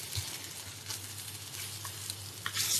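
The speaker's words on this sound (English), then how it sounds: "I like to have a little bit of char on my fish cakes. So, let me just flip this." Fish cakes frying on a 20-year-old electric cooker give a steady, fairly quiet sizzle with a low hum beneath and a brief louder crackle near the end.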